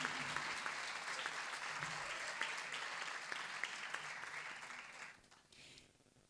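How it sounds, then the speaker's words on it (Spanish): Conference audience applause at a social work conference opening, sustained clapping for about five seconds that then tapers off, heard somewhat distant. "Menos mal que aplaudieron esta parte"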